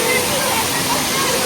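Waterfall with people in the water, a loud continuous roar and rush of falling water filling the whole short moment, close and steady.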